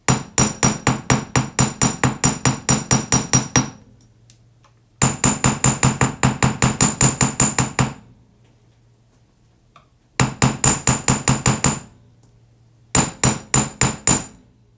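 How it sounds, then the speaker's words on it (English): A small hammer strikes metal jewelry to texture it, ringing out in four bursts of rapid, evenly spaced sharp taps, loud and close, with short quiet gaps between the bursts. "I'm going to start with my smaller hammer first, and then we will use the bigger one."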